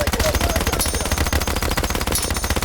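Sustained automatic gunfire in the video game OutlawZ, a rapid, unbroken machine-gun rattle, loud and close throughout.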